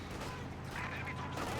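Rapid, dense gunfire and bursts of battle noise play continuously from a Company of Heroes 2 match, including an MG42 machine gun position, over a steady mid-level din.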